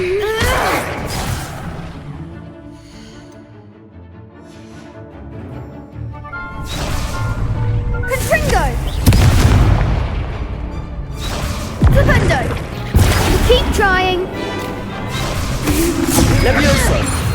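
Several booming, crashing blasts from the Confringo fire spell in a video game, loud and close, arriving in bursts between stretches of shouted voices and quieter ambience.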